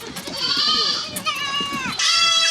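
Young goats in the kid pen of a large black goat farm bleat loudly, with several overlapping, wavering cries coming close together from the nearby pen.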